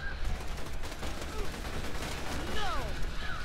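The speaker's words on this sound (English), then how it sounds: "I do know that my shotgun explodes when I reload it" Gunfire in the video game Borderlands 2, including shotgun blasts, rattling in dense continuous bursts at steady loudness while players talk over the action.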